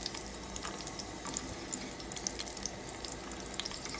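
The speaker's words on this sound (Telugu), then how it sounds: "బెల్లం వాటర్ అంతా అటుకులతో ఎగిరిపోయే వరకు ఈ స్వీట్ రెసిపీని ఇలా కలుపుకుంటూ దగ్గరుండి ఉడికించుకోవాలి" Poha sweet bubbles in jaggery water while being stirred, a steady wet sizzle and simmer with scattered light scraping and splashing, close and continuous.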